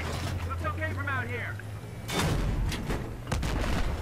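Gunfire in the video game Battlefield 3, bursts of loud rapid shots after a brief passage of voice, close and harsh, with a humming engine-like drone underneath the opening.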